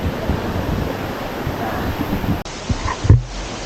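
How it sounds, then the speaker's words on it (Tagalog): Strong current of Tousuvan Falls, a mountain waterfall at about 1036 m in Magpet, roars as loud, steady broadband rushing water close by, with brief shouts and a break near the end. "ang lakas ng agos"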